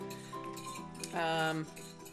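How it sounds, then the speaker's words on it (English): A spoon clinks lightly against a bowl while yeast and sugar are stirred together, a few bright ringing taps up close, with a voice talking over it. "Give that a little light stir."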